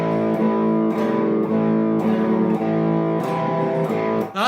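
A boogie-woogie guitar riff, the opening bar of the third variation, played with a distorted electric tone as steady repeated low notes with a shifting upper note, loud and close, with no talking.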